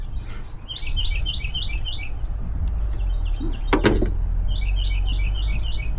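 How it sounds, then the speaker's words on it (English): Birds chirp in bursts of high twittering calls outdoors, with a brief sharp squawk in the middle, over a steady low rumble of background noise and no talking. "All the noises that these birds are making."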